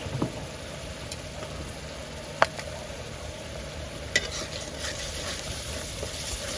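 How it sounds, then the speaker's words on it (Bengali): Chili, coriander, cumin powder and salt sauté in oil in a pan for fish pulao, making a steady soft sizzle with a few sharp stirring clicks and scrapes, close up and without speech. "মশলাগুলো খুব সুন্দর মতো কষিয়ে নিব।"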